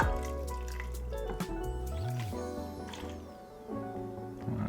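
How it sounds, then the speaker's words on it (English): Half a cup of beef broth is poured into a chili pot over browned beef, making a short, soft, fairly quiet trickling pour with no talking. "We're gonna add our half a cup of beef broth."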